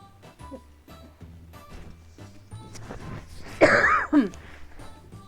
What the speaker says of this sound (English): I'm just coughing a lot